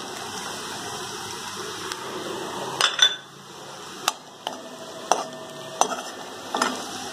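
Prawns fry in a pan for a prawn and drumstick curry, giving a soft sizzle broken by several sharp metallic clinks of a spoon stirring against the pan. No voices are heard.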